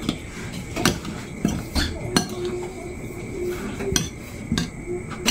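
Onion filling for stuffed tilapia stirred in a bowl, with utensil clinks and scrapes against the dish coming at an irregular rhythm, close and moderately loud.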